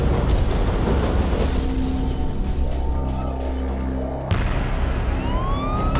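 An ambulance siren sound effect wails loudly and continuously on its own, holding steady tones before rising sweeps near the end.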